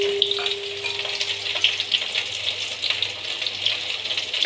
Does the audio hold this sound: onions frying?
yes